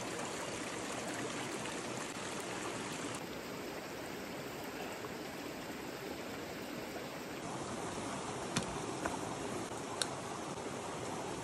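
A river flows near a solo campsite, its even rushing hiss continuing unbroken, with a couple of faint clicks near the end and no speech.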